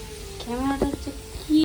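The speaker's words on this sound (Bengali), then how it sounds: "কাঁঠালের বীজের ভাজা করছি" Oil sizzles steadily in a pan as jackfruit seeds fry, with a few scraping stirs and soft clinks mixed in.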